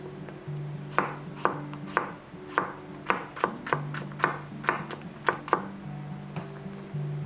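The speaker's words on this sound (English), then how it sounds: "Let's chop the daikon radish." Knife chopping daikon radish on a board for Japanese baby food, a run of sharp, fairly quiet chops at an uneven rhythm, close and clear, with no voices.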